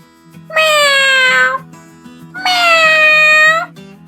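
A cat gives two long, drawn-out meows, each over a second, clear and close, separated by a short pause with a soft background bed underneath.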